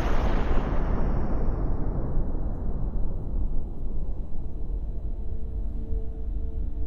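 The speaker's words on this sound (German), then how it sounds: "Eine riesige Explosion" A huge explosion in the video game Fossilfuel booms loudly and alone, its rumbling roar decaying over several seconds into a long, low debris-filled tail.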